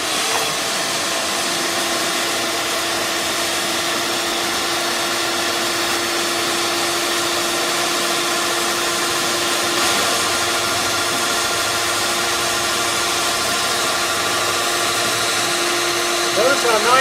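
An air blower pushes sawdust off a bear skin being cleaned for taxidermy and tanning, a loud continuous whooshing hiss with a steady tonal whine, holding constant nearby for the whole stretch without a break.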